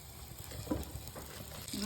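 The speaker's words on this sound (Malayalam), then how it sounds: "അതേ കടായി തന്നെ അടുപ്പിലോട്ട് വെക്കാം എന്നിട്ട് അതിൻ്റെ അകത്തോട്ട് നമുക്കൊരു ഇച്ചിരി ബട്ടർ ഇട്ട് കൊടുക്കാം അതവിടെ കിടന്നൊന്ന് മെൽറ്റായി വരട്ടെ" Butter melts and sizzles in a kadai on the stove, a faint soft crackle with a few small pops and a light scrape, quiet and close.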